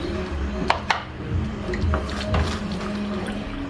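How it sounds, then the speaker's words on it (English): Water poured into a pan of sorrel-rum chicken sauce, a soft splashing trickle with a couple of sharp clinks from the pan, close and moderately quiet. "You're gonna add in some water to this too"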